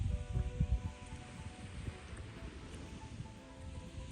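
Steady sea wind gusts rumble and buffet against the microphone outdoors, a low roaring rush that swells and eases with no talking.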